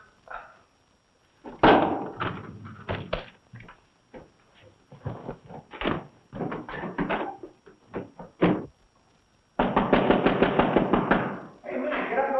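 Someone knocks on a door in a 1941 crime drama, firm repeated knocks in uneven bursts, the last a rapid loud volley. Voices talk between the knocks.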